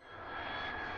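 A fighter jet in a children's transport video game gives a loud, steady roaring whoosh that swells in over a brief moment.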